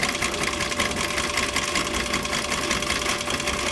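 A sewing machine stitching leather runs continuously at speed, its rapid needle clatter steady and close throughout with no pauses.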